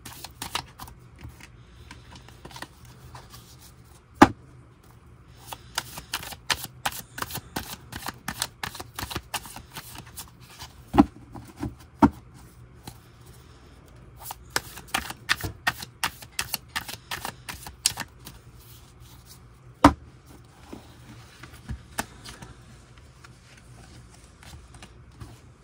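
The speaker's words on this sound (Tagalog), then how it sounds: "Ito naman po ang ating balasahin." A deck of playing cards is riffled and bridged repeatedly, bursts of rapid fluttering clicks with sharp snaps between them, close and fairly crisp against a quiet room.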